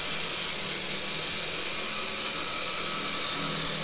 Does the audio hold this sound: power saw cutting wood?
yes